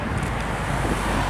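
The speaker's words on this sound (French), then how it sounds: "Voilà, une voiture est passée." A car passing outside, heard as a steady broadband roar of road noise with some wind, moderately loud and without any clear rise or fade over the short span.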